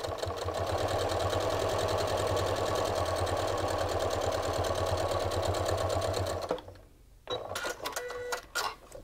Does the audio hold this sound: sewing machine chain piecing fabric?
yes